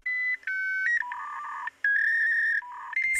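Dial-up internet modem tones in a television advert: a quick run of steady electronic dialing beeps at shifting pitches, loud and clean with no talk, ending in a burst of static hiss.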